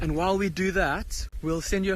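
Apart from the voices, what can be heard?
None of the usual background noises is heard.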